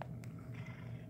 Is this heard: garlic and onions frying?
no